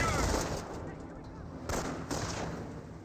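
Gunfire in the World War II strategy game Company of Heroes, with squads of German Volksgrenadiers engaging: dense rattling bursts of rifle and machine-gun fire, with louder volleys flaring up near the end over a steady battle din.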